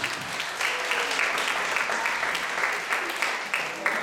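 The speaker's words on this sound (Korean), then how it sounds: "박수" Classroom applause at the close of a bilingual education session, a steady patter of clapping from a group of students lasting the whole stretch, fairly close and even in level.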